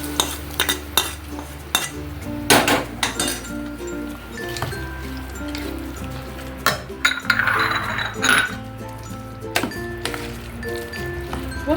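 A spoon clinks and scrapes against a metal pan as tempering is poured over cooked rice for creamy curd rice, with close, irregular taps and stirring rattles.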